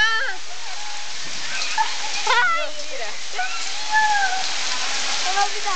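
Hailstones pour down steadily during a 2011 hailstorm, a dense rattling patter throughout, while excited voices shout and cry out over it.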